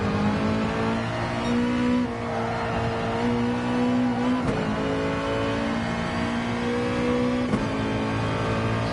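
A Mazda touring race car in a driving video game holds a loud, steady engine drone that rises and dips through gear changes, with brief tyre and shifting noises, continuous throughout.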